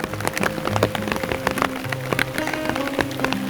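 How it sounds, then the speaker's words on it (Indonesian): Rain falls at a campsite at The Signature Lodge in Cikole, West Bandung, pattering close and steadily with sharp, irregular drips striking a tent or canopy, heard without any talk. "Lagi hujan."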